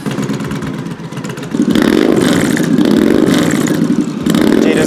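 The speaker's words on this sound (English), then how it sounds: "Jay at Fab28 did a really cool job doing a custom exhaust for us." A motorcycle engine on a custom bagger idles with a throaty rumble, then revs up loudly and holds steady, a deep clattering note from its custom exhaust close by.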